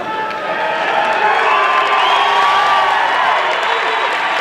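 Loud, dense crowd cheering and whooping at a 1992 Arnold Schwarzenegger Classic bodybuilding show, sustained without a break through the whole span.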